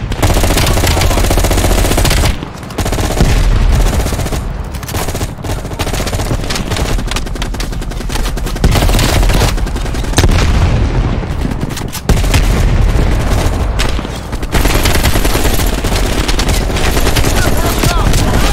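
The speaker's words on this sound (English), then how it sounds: "you followed the road right toward the sound of gunfire" Dense gunfire from the Call of Duty: Black Ops Cold War video game on PS5, with loud sustained automatic bursts, booming impacts and brief gaps over almost twenty seconds, and voices occasionally mixed in.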